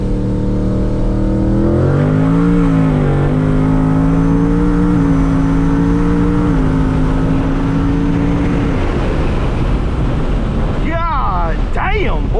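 Tuned car making around 900 wheel horsepower pulls hard at wide open throttle in third gear, a loud rising engine drone with a shift dip partway through and heavy wind roar inside the cabin, before a person talks near the end.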